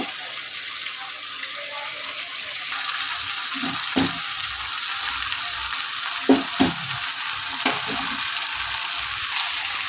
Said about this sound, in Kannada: ಇವಾಗ ಸ್ವಲ್ಪ ಇದು ಫ್ರೈ ಆಗಲಿ ಫ್ರೆಂಡ್ಸ್